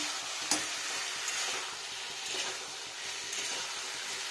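Paneer sautéed and stirred in a pan, a steady hissing sizzle with a few sharp scrapes and clinks of the spatula, close and moderately quiet with no talking.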